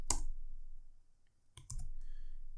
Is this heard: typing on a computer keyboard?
yes